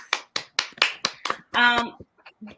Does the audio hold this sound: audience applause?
yes